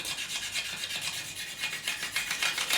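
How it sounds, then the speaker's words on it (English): A steady, rasping scrape of a blade dragged repeatedly across the wooden fingerboard of a Fender Precision bass being refretted, in quick back-and-forth strokes, close and fairly loud with no talking. "we'll just scrape the whole fingerboard"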